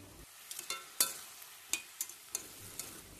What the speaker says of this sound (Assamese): আৰু লগতে ভাজি আছোঁ কোমোৰাৰ ভাজি